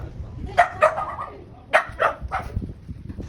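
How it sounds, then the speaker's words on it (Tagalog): A dog barks several times nearby, sharp short yaps in two loose clusters over a few seconds, loud and clear against a quiet indoor background. "May aso."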